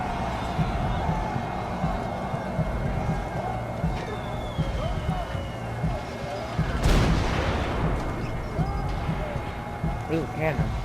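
A single heavy cannon boom in a World War One battle, a loud burst midway that decays into rumble, set in a game scene over music and ambient battle noise.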